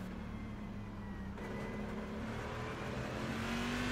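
A Cadillac CTS-VR race car engine in iRacing at Okayama drones at high revs on the final lap, a steady whining tone that climbs in pitch as the car accelerates, fairly quiet and alone.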